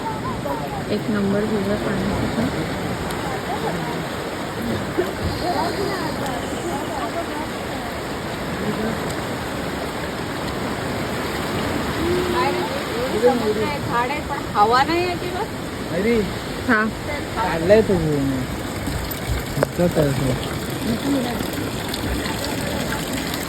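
Water rushes and splashes steadily near an ancient Shiva temple in Konkan, a broad continuous roar with people talking faintly in the background.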